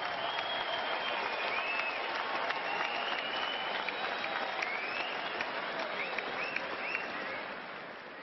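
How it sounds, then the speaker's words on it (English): A boxing crowd in Birmingham applauds both fighters after twelve rounds: steady, even clapping mixed with crowd noise, holding level before easing off at the end. "let's get a nice round of applause out there for both of these warriors"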